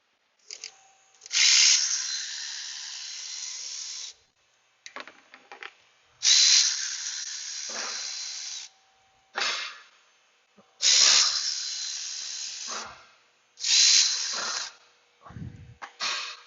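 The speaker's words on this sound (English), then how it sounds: "Before I put this little battery ratchet on here." Small battery-powered ratchet used on a 2014 Chrysler/Dodge, running in five or six separate bursts of high whirring, each a few seconds long, with short gaps, clicks and handling noise between them.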